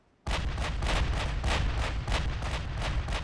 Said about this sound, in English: we fire 12 shells every salvo